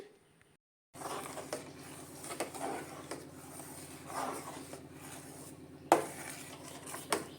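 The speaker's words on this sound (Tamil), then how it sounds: "இந்த மாதிரி நம்ம கிளறி விட்டுக்கிட்டே இருக்கணும் அப்போ தான் நல்லா நெய் நம்மளுக்கு கிடைக்கும்" Butter melting into ghee in a pan gets stirred after a short silence, with a soft bubbling hiss, repeated clinks and scrapes of a spoon against the metal, and one sharper knock near the end.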